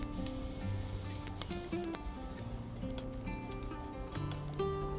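Cumin seeds sizzle and splutter in hot mustard oil inside a pressure cooker, a steady close frying hiss with scattered crackling pops, no talking.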